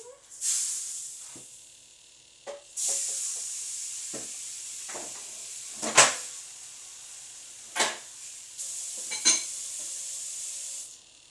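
A sausage sizzles steadily in a frying pan, a constant hiss broken by several sharp clatters and scrapes as it is turned, with occasional louder sputtering bursts.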